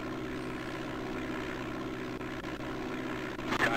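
Propeller airplane engine from the DOS game Flight Simulator 5.1, a steady droning hum holding constant throughout with a slight swell near the end, no talking.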